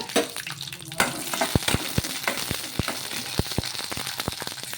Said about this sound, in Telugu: పచ్చిమిర్చి కొద్దిగా నూనె అనేది వేసుకోవాలి నూనె వేసుకొని కొంచెం మగ్గించుకుందాము